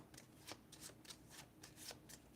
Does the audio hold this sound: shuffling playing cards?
yes